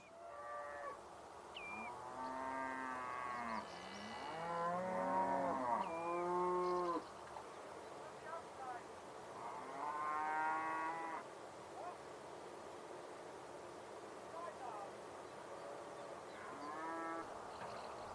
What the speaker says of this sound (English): Meanwhile, the cattle had reached their new pasture area.